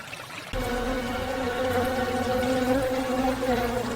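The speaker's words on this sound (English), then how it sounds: "Gotta keep the bees out." Bees buzz in a steady, close drone that starts abruptly and continues without pause, a dense humming with no voices.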